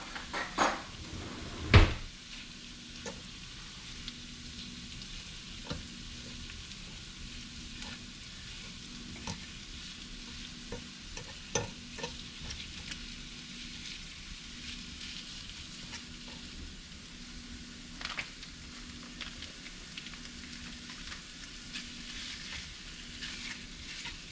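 Seafood egg roll filling stirred around in a pan, a quiet steady sizzle with occasional soft scrapes and knocks of the utensil running throughout, close and low in level with no talking.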